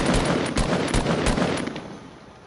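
Rapid automatic gunfire rattles in the Fortnite video game, loud and close, with dense repeated shots over a couple of seconds before it tapers off.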